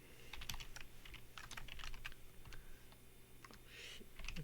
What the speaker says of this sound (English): I can't even type today.